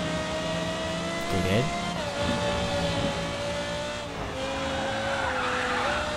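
Race car in the Grid 2 video game spinning out, with tire squeal and skidding over a steady engine drone, sweeping tones bending as the car slides; a person speaks briefly over it.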